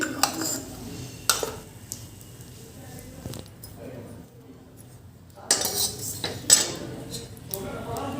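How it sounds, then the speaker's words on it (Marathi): Cumin seeds dry roasting in a pan for Solapuri kala masala, a spoon scraping and clinking against the metal in uneven bursts, with quieter stretches of soft rustling between them. "यात आपल्याला आता जिरे सुद्धा भाजून घ्यायचे"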